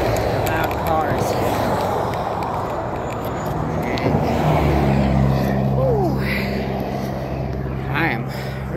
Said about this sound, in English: People in their loud cars.